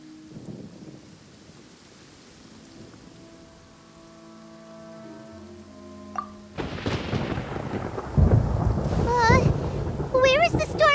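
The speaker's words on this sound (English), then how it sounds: "Paimon hears thunder!" Rolling thunder from a storm in the video game Genshin Impact, a low rumble building over several seconds under rain and music, followed by a loud crack and a voice speaking.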